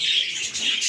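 Birds kept with their chicks give sharp, harsh squawks in quick succession, close and fairly loud, for under a second with no other sound.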